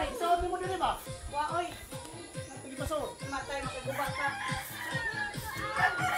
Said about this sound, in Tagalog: Daghan sila og manok.